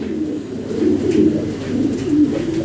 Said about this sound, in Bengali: দেখেন আর্সেন মডেনা আছে কয়েকটা জোড়া, সবগুলোই অনেক স্বাস্থ্যবান অ্যাক্টিভ কবুতর